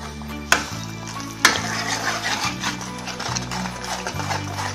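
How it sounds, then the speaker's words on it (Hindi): Curry masala for Kashmiri dum aloo frying in ghee, a low steady sizzle with soft stirring scrapes and two sharp clinks near the start, under a constant background hum. "अब इसको हम तब तक फ्राई करेंगे जब तक हमारा ये घी जो है वो ऊपर ना आ जाए।"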